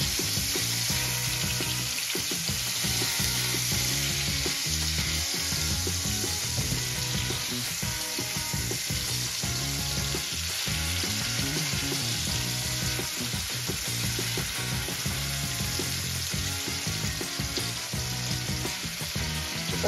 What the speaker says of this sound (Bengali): হালকা একটু ভেজে নিচ্ছি